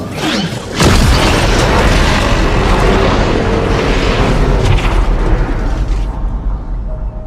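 A pulse burst from the Impacteur tower in the Fortnite video game, a sudden loud boom that swells into a dense, roaring blast and holds steady for several seconds before thinning out.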